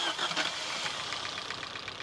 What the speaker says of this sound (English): It is rather cold, so let's pump the throttle a couple times.